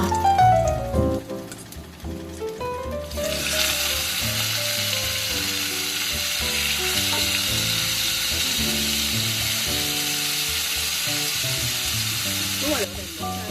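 Lamb chops dropped into a pan of golden fried garlic, the sizzle swelling after a few seconds into a loud, steady frying hiss that holds close up, with clanking utensil sounds at the start and at the end.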